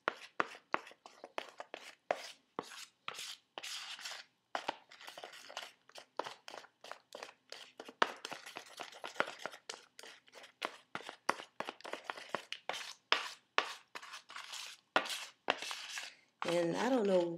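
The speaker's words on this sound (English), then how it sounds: "you're gonna mix, mix, mix, and then you're gonna mix some more" Henna paste for hair being mixed in a bowl, heard as a long run of close, rapid scraping and tapping strokes of uneven rhythm, quiet overall, with a brief different rustle near the end.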